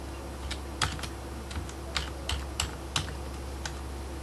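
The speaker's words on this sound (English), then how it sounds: "so I type in my username and my password" Someone types a username and password on a computer keyboard, producing sparse, irregular key clicks spaced apart, close and fairly faint over a low steady room hum.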